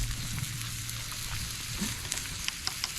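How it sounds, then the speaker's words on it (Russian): Food sizzles in a pan over a campfire in the rain in Karelia, a steady close crackle and hiss with faint pattering drops and occasional small clinks. "Жарим под дождем."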